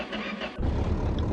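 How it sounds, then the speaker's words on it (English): A Ford F350 diesel tow truck engine fires up about halfway through, shifting from quiet idle noise to a loud, steady low rumble that continues to the end. "I can turn it on again for you to listen to that roar of the diesel"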